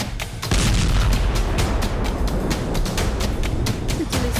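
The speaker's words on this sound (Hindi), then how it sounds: "गैस स्टेशन में तेजी से रिसाव हुआ जिसने चिंगारी पकड़ी और फिर एक ऐसा धमाका किया" A gas station explodes in Volgograd after a gas leak ignites, a deep loud boom followed by sustained roaring rumble and scattered sharp cracks.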